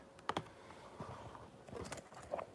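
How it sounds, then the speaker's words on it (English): Quick bursts of typing on a computer keyboard as a search is entered, a few clustered keystrokes spread over a couple of seconds, fairly quiet and close, with no talking. "Andy Warski, first result when we type it in"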